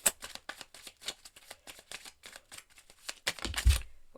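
Tarot cards are shuffled and drawn close by in a quick series of crisp flicks and riffles, with a louder thump near the end as a card is set down.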